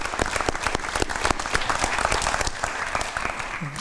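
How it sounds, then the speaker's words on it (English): Audience clapping at a police new-hire swearing-in and awards ceremony, a dense, steady round of applause from a crowd that holds evenly for several seconds. "If we could give them a round of applause"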